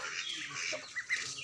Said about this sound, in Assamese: আৰু এয়া কুকুৰাও পুহিছোঁ অলপ